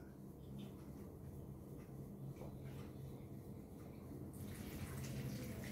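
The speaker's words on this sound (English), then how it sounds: "When the water flows" Rainwater runs steadily into storage tanks of a small homemade rain-powered generator, a continuous close trickle and rush of water with no talk.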